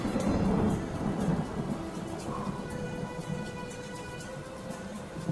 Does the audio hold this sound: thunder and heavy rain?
yes